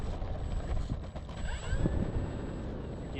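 A P-51 model airplane engine drones steadily while taxiing in wind, close and fairly loud, with mechanical whirring and faint rattles throughout.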